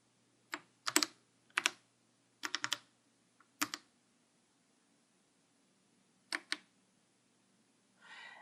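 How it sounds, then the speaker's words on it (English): Keys clack on an Apple IIe computer keyboard in short bursts of close, crisp typing separated by pauses, with a brief softer rustle at the end and no voices. "pressing return accepts the entire answer"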